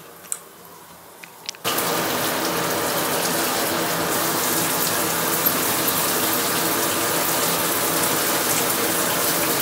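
A shower switches on abruptly after a few faint clicks and then runs as a loud, steady hiss of spraying water with no voices.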